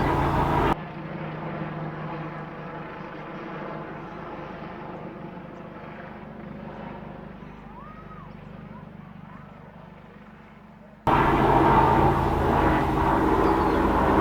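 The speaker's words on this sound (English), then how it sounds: "look, the police helicopter." A police helicopter overhead makes a steady, droning rotor rumble that holds at the same level throughout while people talk nearby.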